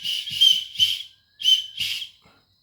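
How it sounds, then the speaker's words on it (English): A survival whistle built into a camping buckle that comes with a fire starter, blown in about four or five short, shrill blasts with brief gaps between them. It is close and loud, with no talking. "And the whistle."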